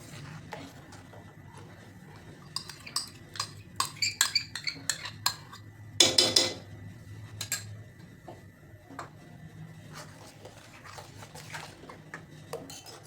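A spoon scraping and clinking against a cooking pot while a milk powder mixture is stirred in for ice cream, a series of light metallic taps building to a louder cluster, then quieter scrapes, with no talking.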